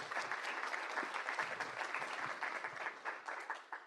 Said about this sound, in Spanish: Un fuerte aplauso para nuestras panelistas.